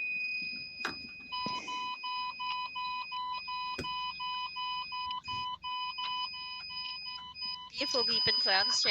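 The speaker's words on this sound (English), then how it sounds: "my inverter's beeping at me" A power inverter inside a truck beeps in a repeating pattern of steady electronic tones, loud and close, with a few knocks and a rise in noise near the end.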